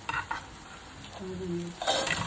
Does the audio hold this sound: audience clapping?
no